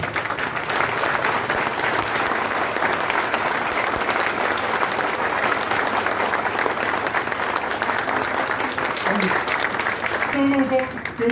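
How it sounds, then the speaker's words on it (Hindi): Sustained applause from a business-event audience in Mumbai/Thane, dense continuous clapping filling the whole stretch with crowd noise mixed in, loud and steady throughout. "सब लोग खड़ा होके तालियां बजाइए सब लोग।"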